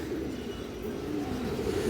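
Several pigeons coo steadily in a dense, overlapping chorus of low, rolling calls that continue without a break, close by.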